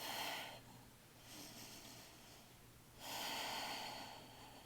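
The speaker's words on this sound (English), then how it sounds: "Breathing deeply wherever you are." Deep, slow yoga breaths during an advanced flow class, with two long airy exhales at the start and end and a quieter breath between, close and steady with no talking.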